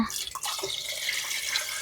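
Water poured into freshly made wild forest oil, a traditional tribal oil-pressing preparation, making a steady splashing, trickling stream close by for the whole moment, with no talk over it.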